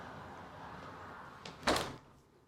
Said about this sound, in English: shutting this door